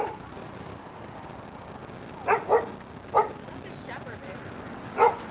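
A shepherd dog of about 35 pounds lets out several short, sharp barks at close range, two quick ones and then a single bark twice more, over low background noise and faint voices.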